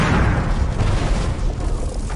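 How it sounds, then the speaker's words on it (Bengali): A cartoon explosion rips through Gotham City, a dense, loud, rumbling boom that roars without a break for a couple of seconds. "গৌতম সিটিতে একাধিক জায়গায় ব্লাস্ট হয়"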